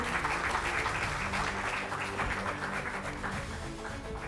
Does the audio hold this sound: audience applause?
yes